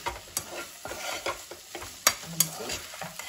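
Okra (bhindi) fries in a pan over a medium-to-low flame with a soft, steady sizzle, broken up by scraping stirs and a few sharp clinks of a utensil against the pan.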